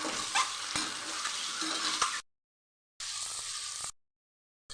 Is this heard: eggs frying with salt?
yes